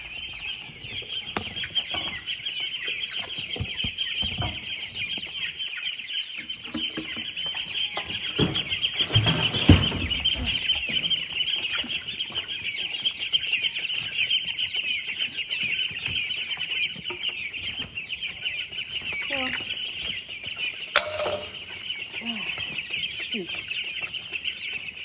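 Chickens cluck steadily inside a homestead coop during a storm, a dense chorus of hens with occasional louder calls, over a constant high hiss of rain and wind and some faint talk.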